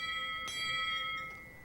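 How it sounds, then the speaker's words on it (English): A cartoon tugboat's polished bell rings once in a single clear, sustained tone that slowly fades, heard alone at a modest level. "I never noticed how nice my bell sounds."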